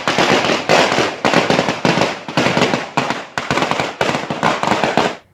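Firecrackers bursting at a village celebration marking a new bus route, a dense, loud run of crackling explosions with brief gaps between bursts, no voices.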